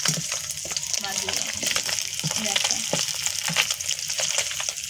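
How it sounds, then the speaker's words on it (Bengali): Small tilapia fish frying crisp in hot oil, a dense, continuous crackling sizzle with spattering bursts and occasional stirring, close and loud throughout. "ছোটো ছোটো তেলাপিয়া মাছ নিয়েছি আর এগুলো কিন্তু অলরেডি লাল হয়ে গেছে আরও একটু মুচমুচে করে ভেজে নেবো"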